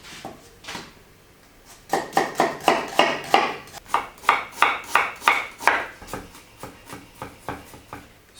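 A knife makes rough chops through halved onions on a cutting board while kimbap filling is prepared: a light tap or two, a pause, then a steady run of about fifteen crisp, evenly spaced close knocks, with no talk.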